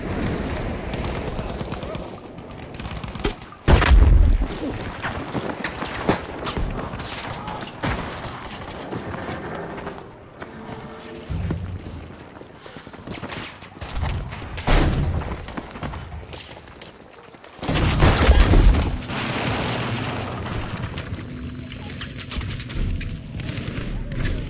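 Grenade explosion and gunfire in the video game Battlefield V, with heavy booms and bursts of rapid shooting spread through a busy battle, and shouting voices between the blasts.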